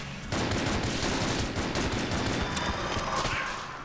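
Rapid pistol fire from the plague pistol in the video game Enter the Gungeon: a dense, continuous stream of sharp shots at a steady, quick rhythm, loud and close, with game effects layered underneath and no talking.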